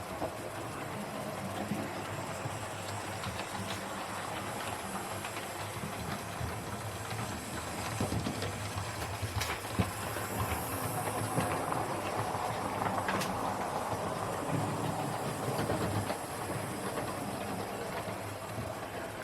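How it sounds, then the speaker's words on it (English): A model 61XX steam tank engine locomotive runs continuously, giving a faint, steady rolling rumble with light rail clicks and no voices. "It's a tank engine built like a tank."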